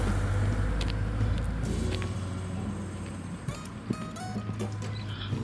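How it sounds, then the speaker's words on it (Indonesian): A car passes on a road near a footpath at the Yume no Tsuribashi suspension bridge area, a steady low engine and tyre rumble swelling and fading, with faint birdsong and a few scattered knocks. "karena terkadang tuh ada mobil yang lewat."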